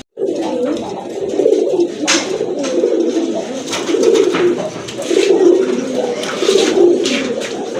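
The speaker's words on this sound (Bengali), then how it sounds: "এটা গররা কবুতর, আকাশি গররা।" Sky-blue Gorra pigeons coo in repeated rolling phrases at close range, several coos rising and falling in bursts over a light background of rustling.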